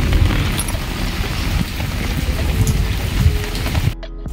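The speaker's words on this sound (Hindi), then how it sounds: "एबे बहुत जोरे वर्षा होछि तो मु छता धरिकी जाउछि" Heavy monsoon rain drums loudly and steadily on an umbrella held overhead outdoors, a dense close patter with scattered heavier drops, ending abruptly.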